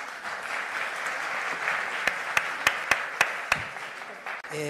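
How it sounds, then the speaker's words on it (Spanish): A large audience at a children's debate with a presidential candidate in Colombia claps steadily, with a few loud, sharp claps close by standing out above the dense wash of applause. "Por favor, un fuerte aplauso."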